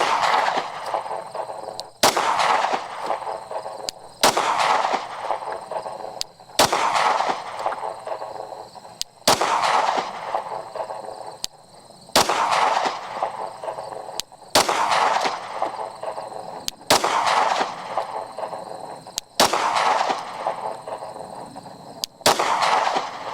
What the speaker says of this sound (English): 10 more rounds, this time out of a Glock 45